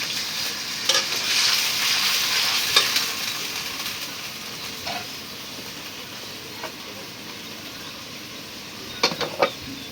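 Soft frying and sizzling of spices from a pan after a splash of water, steady and low, with a few stirring clicks and scrapes near the start and end.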